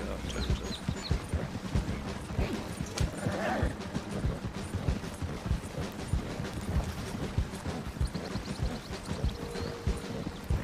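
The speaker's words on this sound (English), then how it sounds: "Little one-horse wagons do pretty good. They move along pretty good." A single horse pulls a one-horse wagon in Red Dead Redemption 2, with steady clip-clopping hooves at a brisk rhythm and a brief whinny, while a voice talks faintly beneath.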